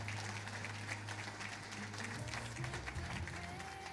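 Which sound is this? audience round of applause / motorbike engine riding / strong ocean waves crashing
audience round of applause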